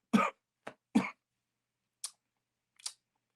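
A few short, dry coughs come first, followed by two fainter, sharper throat sounds, all spaced apart in an otherwise quiet room.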